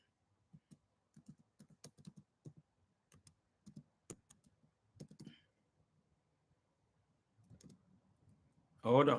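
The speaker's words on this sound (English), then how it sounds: "let me go ahead and type. I'm gonna type it this time." Bursts of clicky computer keyboard typing come in short irregular clusters, close and crisp, with someone talking in the gaps and a louder rustle at the end.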